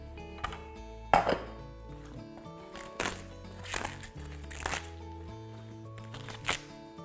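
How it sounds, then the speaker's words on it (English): Wet leafy greens are torn by hand into smaller pieces for a green smoothie, several short rustling rips spaced a second or so apart, close by, over soft background music. "We're going to rip them up into smaller pieces first and stick them into our blender."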